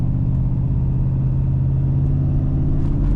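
A 2024+ Ford 6.7 Powerstroke diesel truck with power tunes, towing 12,000 pounds, drones along steadily with a deep continuous engine rumble and road noise, close and loud throughout.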